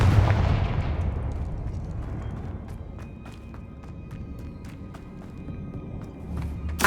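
Confringo fire-blast spell from Hogwarts Legacy bursts loudly with a heavy boom at the start, then decays into a rumbling tail crossed by scattered sharp crackles and impacts.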